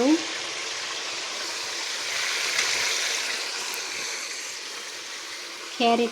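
Capsicum and onions fry in ghee with a steady, even sizzle that holds for the whole stretch, and a voice comes in briefly at the start and the end.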